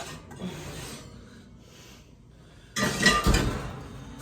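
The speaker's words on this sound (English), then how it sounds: "let me check on our pan and get it out real quick" A baking pan coated in melted butter is handled and pulled out during biscuit-making: soft rasping and rubbing scrapes, a brief lull, then a loud, close burst of metallic clattering and clinks, with no voices.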